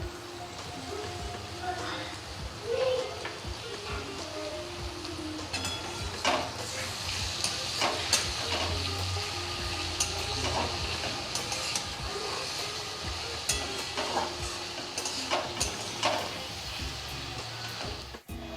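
Chopped tomatoes fry in a pan for a village-style Bengali bata fish curry, giving a steady close sizzle with stirring scrapes and clatter as a voice speaks over it.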